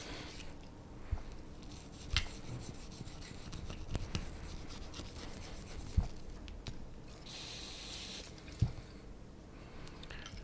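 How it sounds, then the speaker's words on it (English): A nylon brush scrubbing the slide rails of a Colt 1903 pocket hammerless pistol during cleaning, soft close rubbing and scratching strokes with a few sharper ticks, quiet and without talk. "I am going to get my nylon brush and get into these rails in the slide"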